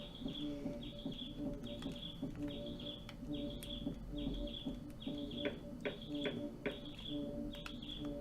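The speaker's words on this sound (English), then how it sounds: "The birds sound friendly." Birds chirp in the video game LSD Dream Simulator, a repeating series of short high tweets coming in a regular rhythm over a low ambient background. The sound is faint and has no voices over it.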